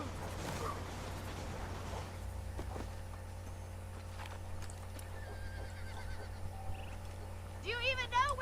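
Horses in the Western video game Red Dead Redemption whinny and neigh in short bursts, the loudest cry near the end, with hoof clip-clop and ambient game sounds running throughout.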